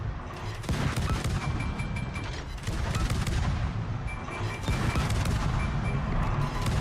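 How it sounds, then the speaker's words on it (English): Warship main guns fire in a naval video game during a competitive grand final, a dense fusillade of booming salvos rolling on continuously at moderate loudness with no talk over it. "now we're gonna start going guns on the Shimanto"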